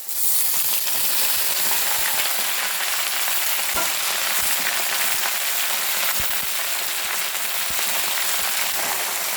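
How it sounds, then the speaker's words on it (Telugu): Gongura leaves fry with cumin in a hot pan, giving a loud, steady sizzle throughout with scattered soft crackles and stirring taps, no voices. "ఇలా ఫ్రై అయిన తర్వాత ఇప్పుడు మనము ఆకులను దీంట్లో వేసుకుందామండి"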